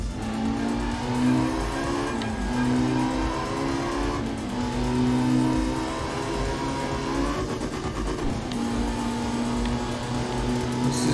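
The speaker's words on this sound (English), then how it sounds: "Now let's just constantly accelerate over here." A rally car engine in the video game art of rally revs hard and continuously, its pitch climbing and dropping through gear shifts, loud and close, with faint tire noise and no talking.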